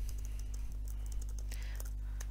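Typing on a computer keyboard while editing a Google Docs document: faint, irregular keystroke clicks over a steady low electrical hum.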